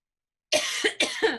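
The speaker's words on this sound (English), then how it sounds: "I'm starting to gag and cough." Two sharp, harsh coughs close up, each a rough burst following a moment of silence, with no talking.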